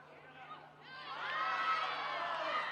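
At a women's rugby match between Barrow Ladies and Leigh Ladies, a distant crowd swells into shouting and cheering, rising over a couple of seconds and holding steady.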